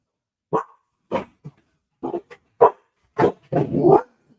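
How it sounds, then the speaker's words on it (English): A dog barks on a television in a home, a series of about seven sharp, fairly close barks in an irregular rhythm, the last ones run together, with no talk. "Dog on TV."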